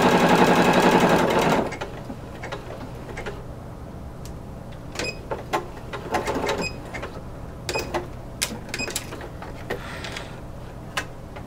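Sewing machine running in a steady continuous burst as it stitches a broken zigzag along corset bone casing, then stopping abruptly, followed by scattered light clicks and fabric handling at close range.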